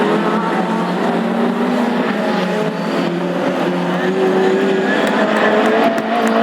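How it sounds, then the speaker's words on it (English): Classic hot rod race cars at Lochgelly racing on track in an all comers final, their engines roaring loud and continuous with shifting pitch as they pass, no speech. "Darren getting a little bit closer to Graham now"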